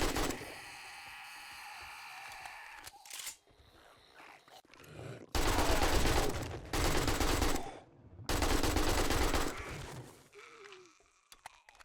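Gunfire at a cop zombie in 7 Days to Die, arriving as three long, loud bursts of rapid shots separated by short pauses, following a quieter stretch with a creature's growl.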